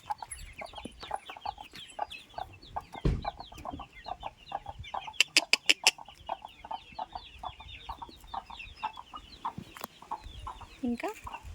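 Young chickens, somewhat larger than chicks, clucking and chirping continuously on a coconut-grove farm, with a few sharp clatters midway and a louder squawk near the end.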